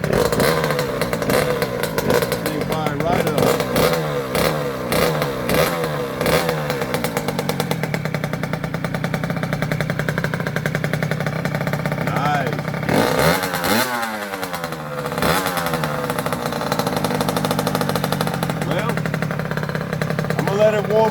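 Kawasaki KX60 mini dirt bike engine idling and revving in steady, loud bursts throughout, with a sharper throttle rise midway, while someone talks over it.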